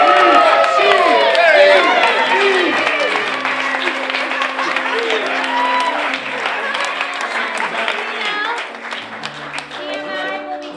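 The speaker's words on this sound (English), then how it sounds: "And another round of applause for our special guest, Steve Olson." Studio audience at a Hollywood talk show claps and cheers for a special guest, dense applause mixed with voices and chatter, gradually thinning over about ten seconds.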